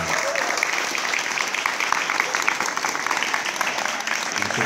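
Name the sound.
audience applause for the graduating students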